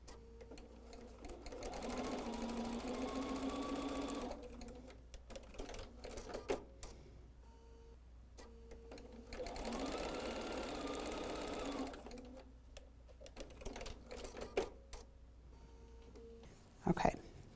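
A sewing machine stitches a quilt block in two steady whirring runs of about four seconds each, separated by pauses with light handling clicks and a brief clatter at the end, heard up close.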